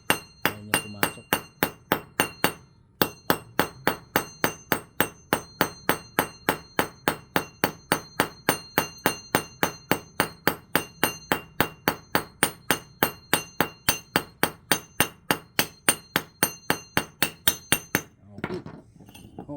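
A tight bearing is hammered into its housing: a steady, loud train of sharp metallic strikes, about three per second for nearly twenty seconds, with a short pause early on and a brief clatter at the end.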